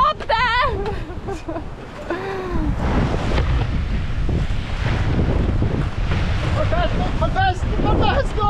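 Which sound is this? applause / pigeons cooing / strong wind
strong wind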